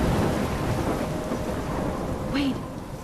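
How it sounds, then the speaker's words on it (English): Thunderstorm in Life Is Strange, steady heavy rain hissing with a continuous low rumble of thunder rolling underneath, loud and enveloping for the whole stretch. "I'm trapped in a storm?"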